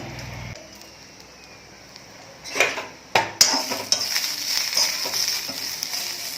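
Garlic is dropped onto roasted green chillies in a little oil. The quiet start gives way to clattering utensil knocks and a rising sizzle, then steady frying with scraping stirs close by.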